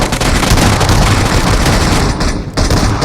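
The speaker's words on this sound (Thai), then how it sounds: "ทางซ้ายยิงกันอุตรุดเลยครับ ผมก็ฟรีไฟยิงไปก่อนเลย" Sustained automatic gunfire in PUBG Mobile, a dense loud fusillade of overlapping rapid shots filling the whole stretch with barely a pause.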